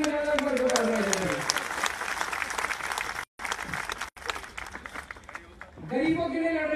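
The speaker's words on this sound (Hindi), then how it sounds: "जोरदार ताली बजाएगा" Crowd applause at the Yamuna Aarti gathering in Delhi, a dense continuous clapping that runs for several seconds, breaks off briefly and then picks up again, with someone speaking over it.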